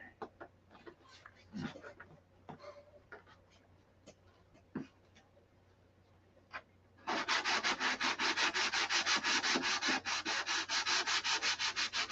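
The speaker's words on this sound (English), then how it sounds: "Watch how much is left when I get done sanding here." Steady, rhythmic back-and-forth rasp of sanding aqua green paint off a Viper, loud and close, following several seconds of quieter handling clatter.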